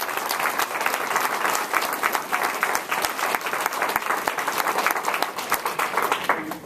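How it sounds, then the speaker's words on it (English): Sustained applause from a sizable crowd at a school graduation ceremony, dense and steady clapping throughout with no speech over it. "So I'd like for all of us to give each other a round of applause"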